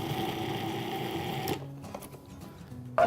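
A food processor whirls the dry ingredients for shortbread, a steady motor whir for about a second and a half that then cuts off, leaving faint rattling and a brief clunk.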